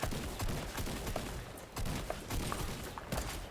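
Rapid bursts of gunfire in a video game arena match, dense and continuous across the whole stretch with short dips between volleys, loud and close with no talking over it.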